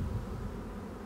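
Bees buzz at a beehive on a countryside farm where a new bee is being born, with a dense, continuous low hum of many insects close by and no voices.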